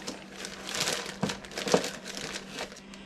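A plastic 1-gallon zipper bag crinkles and rustles as it is handled, giving irregular bursts of crumpling up close, with no talking during the handling.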